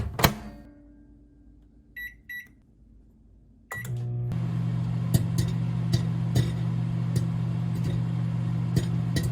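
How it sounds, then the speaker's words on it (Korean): A couple of short electronic beeps, then a microwave oven starts with a steady low hum and keeps running while making popcorn from corn kernels in a plate-covered bowl, with faint occasional ticks. "접시로 덮고 전자레인지에 2분 돌리면 끝!"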